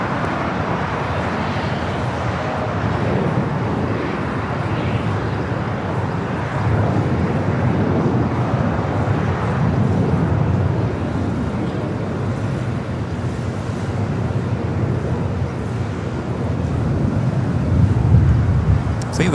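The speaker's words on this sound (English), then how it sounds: "Let's go to the Delta A330. Taking off, 24 left." A Delta Airbus A330 jet takes off from runway 24 left at Los Angeles airport, a loud, steady roar heard from a distance. Wind buffets the microphone throughout and the sound swells slightly near the end.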